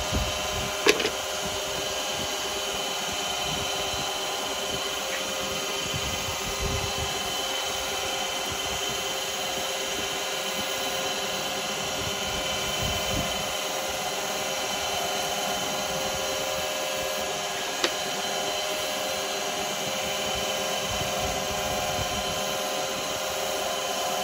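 A wooden duck egg cup spins on a lathe while being sanded, giving a steady whirring hum with a soft rubbing hiss throughout and a couple of brief knocks, with no voices.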